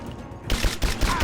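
Gunfire in the video game Rise of the Tomb Raider: a loud burst of rapid overlapping shots with sharp cracks, a brief fusillade starting abruptly after a moment of quieter background.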